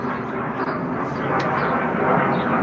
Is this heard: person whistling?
no